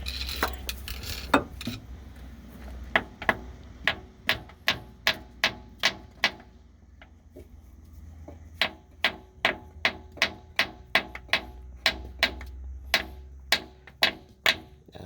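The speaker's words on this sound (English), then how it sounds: "Let me just try with the hammer first." Sharp metallic hammer strikes on a bolt ring out in a steady run, about two per second, with a brief pause midway before the rhythmic banging resumes.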